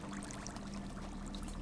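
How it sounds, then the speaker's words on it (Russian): Liquid bubbles and gurgles steadily in a spot in The Witcher 3: Wild Hunt, a continuous wet churning with a low hum beneath it, even and unbroken throughout, with no voices. "Фу, как все булькает."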